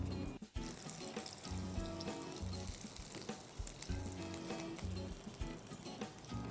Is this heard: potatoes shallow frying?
yes